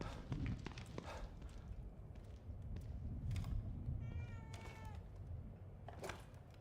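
A cat gives a short meow partway through, over a steady bed of low background noise with scattered clicks and knocks.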